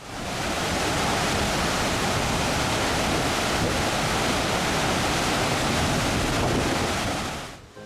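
Waterfall in North Iceland, the falls later known as Goðafoss: a steady, loud, broadband rush of falling water with no break for about eight seconds, cutting out abruptly at the end.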